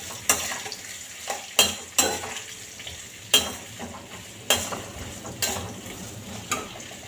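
Onions frying in a pan under a soft, continuous sizzle, punctuated by about seven sharp scrapes and knocks of a stirring utensil at irregular intervals, close and fairly loud, with no talking.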